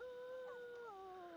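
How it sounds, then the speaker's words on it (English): A dog howls in The Sims 2 game, a faint, drawn-out wavering wail sliding slowly downward, heard alone. "Who's howling?"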